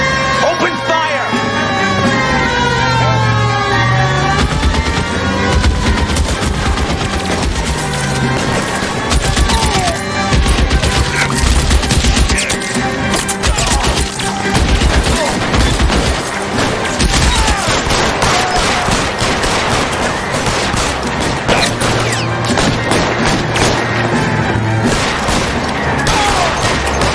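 Gunfire in the video game L.A. Noire: a sustained, loud fusillade of rapid shots with booms and wailing siren-like tones, plus a few voices mixed into the chaos.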